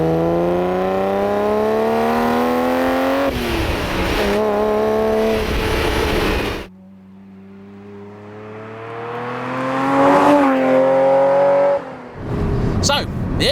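A Ferrari Testarossa engine hums loudly and steadily from inside the car while driving. It rises and falls through the gears with a brief drop in volume midway, then swells again as it accelerates.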